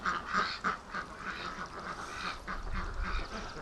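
Muscovy ducks in a pen, one bathing in a tub being filled, give soft, scattered quacks and low calls at moderate distance, fairly quiet, with no talking.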